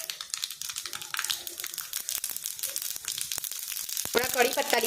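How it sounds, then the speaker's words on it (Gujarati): Mustard seeds dropped into hot oil for tempering crackle and spit in quick irregular pops, close and fairly loud, building toward the end with some clinking. "એમાં અડધી ચમચી રાઈ નાખીશું।"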